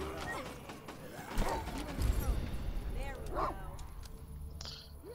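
A dog barks in the zombie video game Decision Red Daze: several short, sharp barks amid busy in-game noise, with a voice speaking over it.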